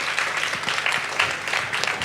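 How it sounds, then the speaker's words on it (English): An audience applauds a discussion panel at a Melbourne Knowledge Week talk on circular living, a steady crowd clapping that fills the room evenly throughout. "please put your hand together for our esteemed panel"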